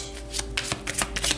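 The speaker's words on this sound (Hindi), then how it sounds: "तो चलिए शफल कर लेते हैं टॉरस वृषभ राशि के लिए।" Tarot cards are shuffled by hand in a few quick riffling bursts, close and crisp, with no talk over them.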